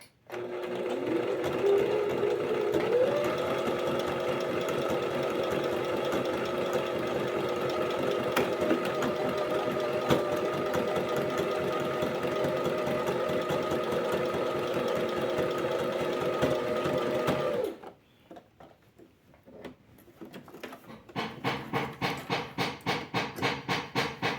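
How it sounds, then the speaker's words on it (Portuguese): A Brother domestic sewing machine stitches a buttonhole in fabric, a steady close whirring hum for about seventeen seconds, then stops before a rapid, rhythmic stitching chatter resumes. "quando eu estou fazendo a casinha, eu não pressiono demais o pedal da máquina"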